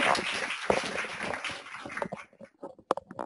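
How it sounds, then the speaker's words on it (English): An audience at a university changemakers talk in Minneapolis claps for a speaker. The dense applause thins out into scattered individual claps and then stops. "So one more round of applause for Pam."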